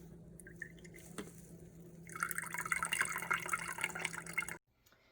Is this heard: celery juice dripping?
yes